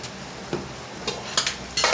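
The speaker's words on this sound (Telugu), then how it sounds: "ఇవన్నీ ఒకసారి కలుపుకోండి." Chicken curry ingredients with turmeric and salt being mixed in a pan, a few quick spoon scrapes and clinks against metal over a faint sizzle.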